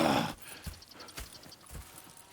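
Horse in the video game Red Dead Redemption 2, a short whinny at the start followed by slow, spaced hoof clops and soft tack jingles nearby.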